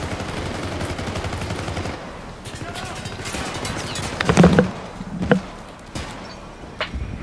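Gunfire and rocket launcher blasts from the cooperative shooter video game Syndicate, a steady rattle of shots followed by several louder sharp bangs, with voices talking over the action.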